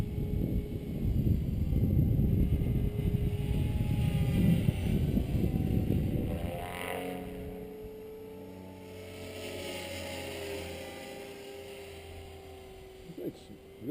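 An Align T-Rex 500 RC helicopter in flight after a crash rebuild: a loud rushing rotor roar for several seconds, easing into a fainter steady motor whine, with voices talking nearby.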